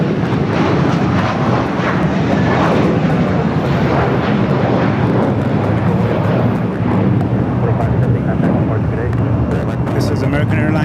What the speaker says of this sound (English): This is American Airlines 2570 going to Charlotte on Airbus A321.